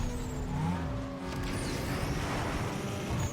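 Rival car engine in the racing game Need for Speed Underground 2 growling steadily and drawing closer during a street race, a sustained engine drone with no speech.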